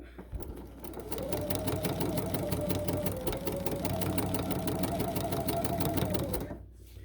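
A Bernina sewing machine with edgestitch foot 12c runs a straight edgestitch, a fast even needle clatter with a steady motor hum that starts, holds for several seconds and then stops, heard up close.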